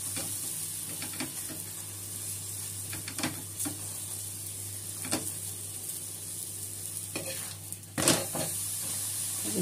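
A bathua paratha fries in hot oil in a pan with a constant low sizzle, broken by occasional clicks and taps as it is pressed and turned, plus a louder clatter near the end.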